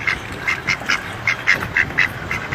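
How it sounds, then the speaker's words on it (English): Duck quacking played back from an online video, a rapid, regular series of about ten nasal quacks at an even pace, clear and moderately loud with no talk. "see what actually the sound of an oversexed duck may sound like"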